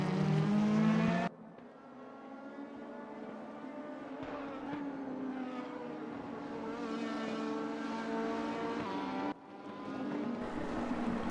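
Mercedes race cars, a 2016-spec and a 2015-spec, battle wheel to wheel in a sim racing game, their engines droning loud and steady with rising and falling pitch through the whole stretch, briefly dipping when the view cuts.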